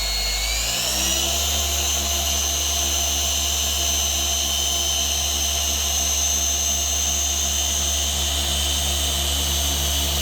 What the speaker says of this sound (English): So now we're gonna get to polishing speed.